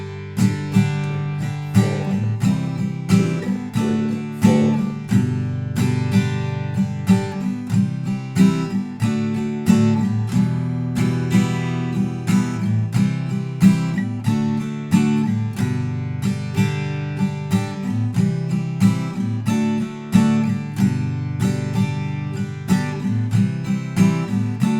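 An acoustic guitar strums the chorus chords of a song in a steady, continuous rhythm that fills the whole stretch, close and fairly loud, with no talking.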